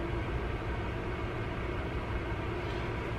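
A PARTU BS-08 portable HEPA air purifier runs on its high setting, giving a steady, even broadband whoosh of airflow like a white noise machine, moderately loud and unbroken throughout.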